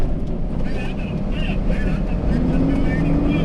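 Cab interior of a moving tow truck: a steady low rumble of engine and road noise fills the space continuously, with a person talking over it.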